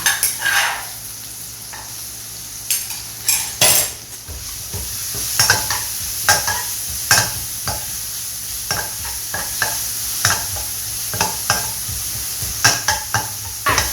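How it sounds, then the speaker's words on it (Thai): Pounded garlic and chili stir-fry in a pan for pork basil stir-fry, a low sizzle under frequent sharp scrapes and clacks of a spatula against the pan, close and moderately loud, with no talking. "แล้วก็จะตามด้วยกระเทียมกับพริกนะคะ ที่เราโขลกเอาไว้ค่ะ ใส่ลงไปเลยค่ะ"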